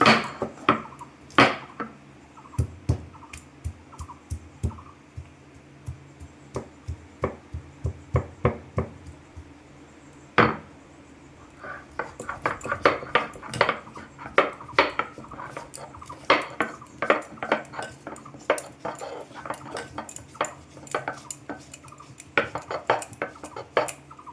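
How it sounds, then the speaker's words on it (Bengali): Boiled jackfruit seeds are ground on a stone grinding slab with a stone pestle, producing sharp, hard clacks and knocks, sparse and irregular at first, then a denser run of close rattling strikes. "আমি শিলনোড়ার মধ্যে এখন বেটে নেব"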